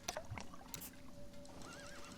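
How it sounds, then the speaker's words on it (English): A horse neighs in the video game Sheltered, a thin whinny over a faint in-game backdrop with a few light hoof clops and soft clicks. "The horse."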